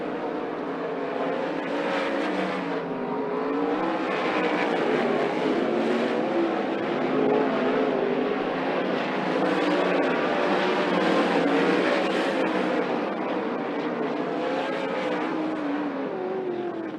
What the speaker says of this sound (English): That is all of the cars in session number 1 of Hot Laps for the Car-Mart 410 Sprint Cars